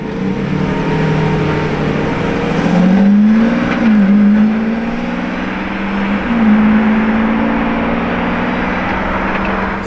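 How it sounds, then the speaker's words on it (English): Lamborghini Revuelto V12 in Verde Turbine revving nearby as gates open, a steady engine note with two rising-and-falling rev sweeps under a continuous loud drone. "gates are opening and I definitely hear a V12, guys!"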